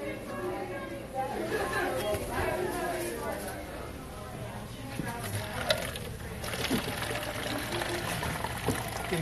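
Water poured and trickling into a glass during a casual indoor livestream, a steady liquid flow under ongoing chatter and talk, with a brief splashy burst near the end.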